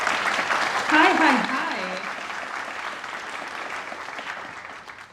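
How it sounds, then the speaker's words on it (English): Steady audience applause at a tech monitoring conference welcomes a speaker to the stage. The clapping continues throughout, and a brief spoken greeting comes over it near the start before the applause slowly fades. "I'd like a big round of applause for Joy."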